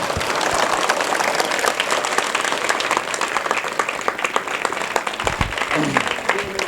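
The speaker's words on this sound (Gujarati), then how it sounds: "હવે તાળીઓ પડો, હવે વાંધો નહીં." Audience applause at a school annual function, dense sustained clapping from a large crowd filling the hall throughout, with faint voices underneath near the end.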